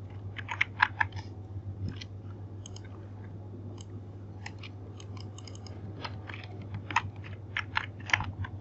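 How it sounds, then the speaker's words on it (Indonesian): Keys tap in scattered clusters on a computer keyboard during a graphic-design session, quiet clicks over a steady low electrical hum, no voices. "Misalnya di sini saya akan mengetik"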